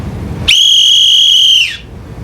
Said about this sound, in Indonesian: Muak dengan tiupan peluit bak wasit sogokan